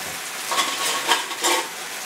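Fried idli pieces are stirred into tomato sauce in a pan, with three or four brief scraping, sizzling strokes close by over a faint background hiss.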